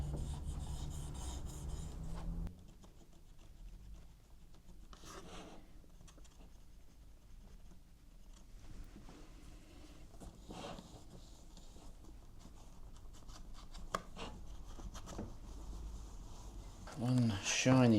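Cotton buds rubbing and scraping in the grooves of a wooden Wisner 8x10 large-format camera, a soft, intermittent scratching texture up close, with a few louder handling clunks at the start and end.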